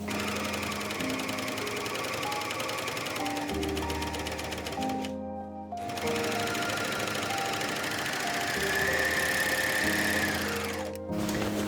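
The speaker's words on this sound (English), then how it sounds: "I'm just gonna pin the front and the back to one another and just sew down the sides on both." Sewing machine stitching down the sides of a padded dress form cover, a steady close mechanical whir that briefly stops and restarts partway through, then carries on continuously.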